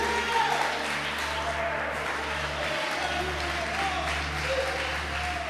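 Steady, loud applause from a large church congregation during an evangelical sermon, continuous clapping that fills the space for several seconds with a low hum underneath.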